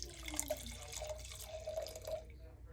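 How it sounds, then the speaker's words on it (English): Wine is poured into a glass, a soft trickling and gurgling liquid stream lasting a few seconds, close and quiet against a faint room hum. "we're going to start out by first pouring a glass of wine."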